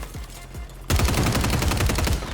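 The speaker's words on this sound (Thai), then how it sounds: "โอ้โห ยิงสบายเลยครับกระบอกนี้" Rapid automatic gunfire from a rifle in the video game Call of Duty Warzone, erupting after a quieter start with a few isolated shots, then a loud, dense burst of shots that continues steadily to the end.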